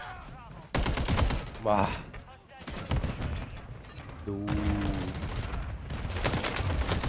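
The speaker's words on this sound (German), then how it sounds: "Einfach schießen, einfach schießen." Gunfire in Call of Duty Modern Warfare 3 on the Shipment map, including a battle rifle: sharp repeated shots and bursts at close range, interleaved with a player's brief excited exclamations.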